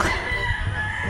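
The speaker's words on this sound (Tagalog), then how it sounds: "Poging manok." A blue-feathered imported-line rooster crows once, close and clear, a short single call with no talk over it.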